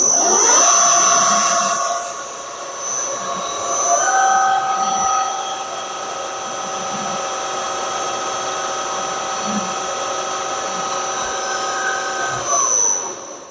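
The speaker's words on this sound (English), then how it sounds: "So that's the center drill." A center drill bores into metal while machining slide valve drive blocks for a model engine: a steady tonal machine whine shifts pitch once early on, then holds evenly until it stops near the end.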